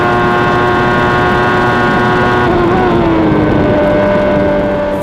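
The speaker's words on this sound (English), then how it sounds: "Mansell, the latter being held up, but he's unable to outdrag the more powerful Ferrari where it matters" Formula 1 cars racing at the 1994 Japanese Grand Prix, including a Ferrari, a loud sustained engine scream with a pitch shift as a car passes close by.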